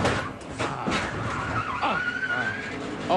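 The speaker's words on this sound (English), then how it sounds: "Big crash." A NASCAR race car crash: a loud squeal of skidding tyres with a rising, then steady whine over a roar of engine and crowd-like noise.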